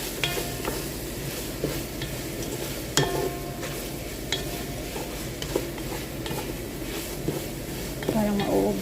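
Creamy red pasta with chicken noodles, paprika and pepper being stirred in a pan over a gas stove, a soft continuous sizzle under repeated spoon scrapes and a few utensil clinks toward the end.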